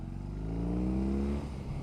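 A 2021 BMW R18 First Edition flat-twin cruiser engine drones with a deep, bassy exhaust note, rising steadily in pitch as it revs, then easing off near the end; close and moderately loud, with no speech.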